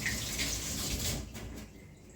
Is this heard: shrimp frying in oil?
no